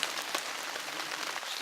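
Steady rain patters on a tarp stretched over a winter campsite on a cold day, a dense continuous hiss of drops with a few sharper taps, no talking.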